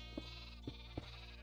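Sheep in the video game Minecraft bleat three times in short, quiet calls spaced across a low, steady background hum.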